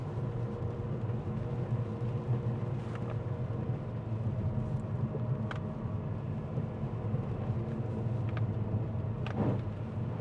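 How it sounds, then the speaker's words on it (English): A 2017 Mercedes-Benz A250 AMG with a 2.0-litre engine and 7G DCT gearbox puts out a steady, low exhaust rumble, with a few faint pops and crackles over it and no talking. "I do like the exhaust sound."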